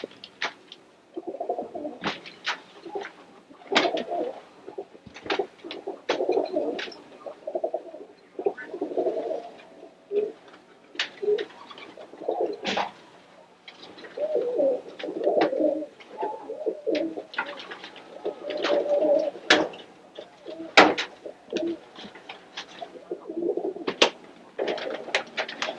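Roller pigeons coo steadily in a loft with chicken-wire walls and wooden box perches, low throaty calls overlapping almost continuously, with occasional wing flutters and sharp knocks and no talking.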